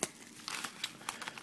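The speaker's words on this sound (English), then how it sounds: "Throw your cards in there and tape it up." Packing tape crinkles and tears as a package of sports cards is sealed for shipping, a quick run of close, crisp crackles and rips with no talking.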